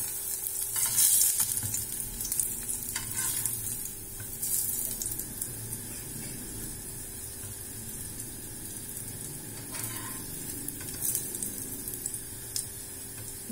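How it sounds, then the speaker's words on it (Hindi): Bread fries in hot ghee with a continuous, fairly quiet sizzle and crackle that stays even from start to finish, with no voices over it. "अब मैं इसमें ब्रेड फ्राई कर रही हूँ।"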